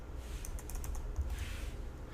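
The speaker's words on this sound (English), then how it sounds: "I'm going to type in CSC and then /help," A computer keyboard being typed on in a quick burst of light, close key clicks over a low background hum, with no talking.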